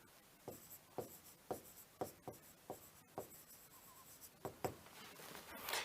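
Marker or chalk strokes on a board during a Hindi maths lesson on number systems, about ten short scratchy strokes in an irregular rhythm, close and fairly quiet, with no talking.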